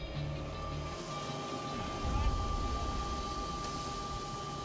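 A steady helicopter hums with a constant high whine and low rotor rumble that swells briefly midway.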